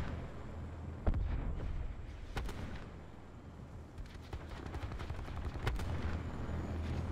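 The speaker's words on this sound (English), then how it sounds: "Every one of these shots that Sniper's Nest is taking is pretty much a death." Sniper's Nest killstreak gunfire in a Call of Duty game: scattered sharp shots at intervals, some in quick pairs, over dense battle noise at moderate distance.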